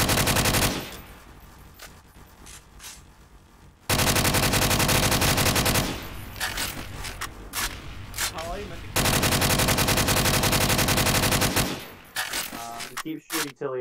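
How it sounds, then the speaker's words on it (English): Sustained bursts of automatic gunfire in Garry's Mod, loud and dense, cutting in and out in long blocks with brief gaps between them, with faint talk in the quieter moments. "Keep shooting till he eventually dies."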